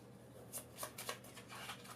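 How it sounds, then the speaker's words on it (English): Playing cards from the Marvel Unmatched board game are riffled back into a deck, giving a few brief papery flutters and snaps at close range, fairly quiet. "Shuffle them back into the deck?"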